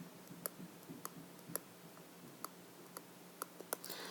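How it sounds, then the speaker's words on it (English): A stylus taps and clicks on a screen while writing, giving small sharp ticks at irregular intervals over near silence. "Writing with a stylus and not touching the screen is a little bit challenging at times"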